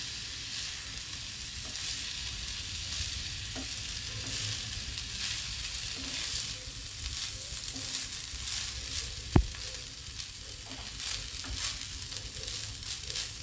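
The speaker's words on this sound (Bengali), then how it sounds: "একটু আমি নাড়িয়ে নিচ্ছি।" Egg fried rice being stirred in a hot pan with vinegar added, a continuous moderate sizzle with soft scraping and stirring textures and one sharp click of utensil on pan partway through.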